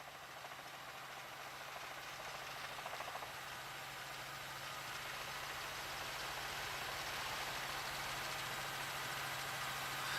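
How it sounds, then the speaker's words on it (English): A police helicopter's steady engine drone with rotor-like thrum hangs overhead throughout during a police chase in Phoenix, loud and constant with no voices. "And they're up over it, the Firebird helicopter."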